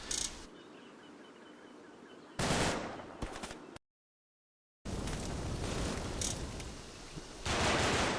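Gunfire from Combat Mission: Market Garden, including a heavy machine gun team, in bursts of loud shots with a brief silent gap, mixed with distant battle noise.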